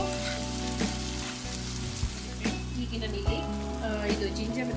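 Chopped tomato fries in a pan for chana masala, giving a continuous crackling sizzle with a few sharper pops. Background music with steady tones plays along under it.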